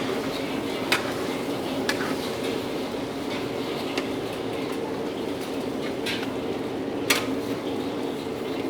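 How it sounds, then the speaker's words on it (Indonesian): Sixteen kilograms of chicken fillet sautéing in a large pot: a steady, even hiss with occasional sharp scrapes and clinks as it is stirred, no voices. "semua ayamnya udah kita masukin ya, sebanyak 16 kilo dan kita bakal tumis-tumis sebentar ya"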